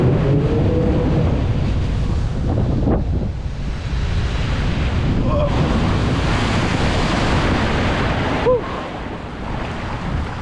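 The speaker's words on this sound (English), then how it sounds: "that is the first like little kind of splash down that you have there" Rushing water and heavy wind roar fill the splash down of the Catapult Falls water ride at SeaWorld San Antonio, Texas, a loud continuous surge with brief lulls and a faint voice underneath.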